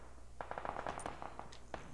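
Automatic gunfire in the video game PUBG, a rapid burst of evenly spaced shots followed by a few scattered rounds, heard at moderate distance and fairly quiet, with no speech.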